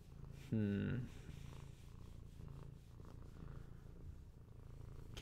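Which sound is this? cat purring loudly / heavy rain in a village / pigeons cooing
cat purring loudly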